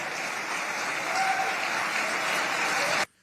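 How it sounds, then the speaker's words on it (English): A crowd gives a standing ovation after a political speech by Mike Pence: dense, steady applause at moderate distance for about three seconds, then cutting off abruptly. "Got a standing ovation there from the crowd at the end."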